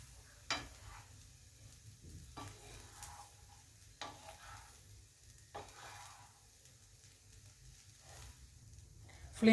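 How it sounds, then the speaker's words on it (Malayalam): A spoon stirs egg tawa pulao in a pan over a low flame, with a faint sizzle underneath and a few sharp scraping strokes at irregular intervals, close and quiet. "ലോ ഫ്ലെയിമിൽ വെച്ചിട്ട് വേണം ഇളക്കാൻ"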